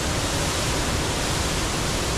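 A mountain river rushes beside a landslide-damaged trail in Nepal, making a steady, dense roar of white water that fills the whole moment without a break.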